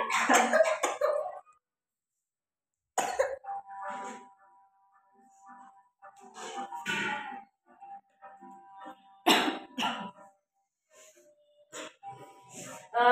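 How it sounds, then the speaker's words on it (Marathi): Repeated raspy coughing fits, close by, separated by pauses and wheezy breaths. "खोकला लागलाय"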